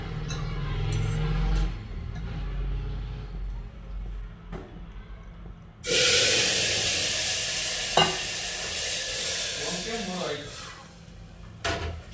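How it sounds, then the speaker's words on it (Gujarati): Soup is tempered with hot spiced oil in a home kitchen. Faint stirring and clinks come first, then a sudden loud burst of sizzling that slowly fades while someone talks. "સૂપ વઘારી નાખીએ."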